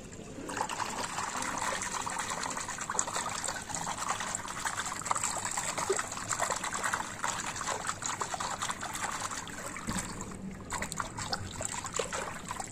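Water trickling and pouring steadily as potash is mixed in to prepare a bath for pigeons, a close, continuous liquid splash and dribble with no talking.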